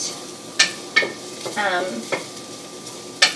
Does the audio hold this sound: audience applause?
no